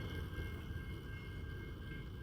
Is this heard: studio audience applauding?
no